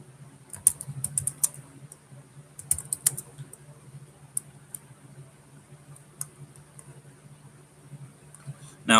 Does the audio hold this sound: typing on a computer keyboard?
yes